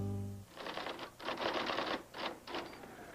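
Rapid typewriter keystrokes in dense bursts with brief pauses between runs, clattering steadily at moderate level with no talk, from a 1983 broadcast commercial.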